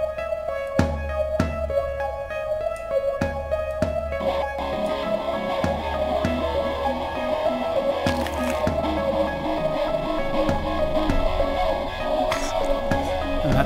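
Layered music loop samples in a Soundtrap track for a movie trailer project: a steady sustained tone over repeating percussive hits, with the texture thickening into a denser continuous mix midway.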